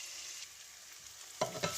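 Pilaf with spices fries over medium heat, a steady hiss of sizzling oil running throughout, followed near the end by a couple of sharp scraping stirs in the pan.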